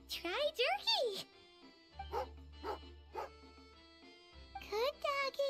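A dog in the Genshin Impact game gives a few quick yips and whimpery barks near the start and again at the end, with game voices talking in between over a low steady hum.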